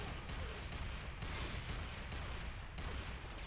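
Hek shotgun rounds fired in the game Warframe, a steady run of loud, close blasts in quick succession over dense crackling battle noise, with no talking.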